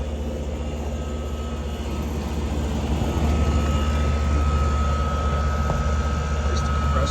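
A 3-ton heat pump's compressor runs with a loud, steady droning hum and a constant low tonal whine, close by and unbroken.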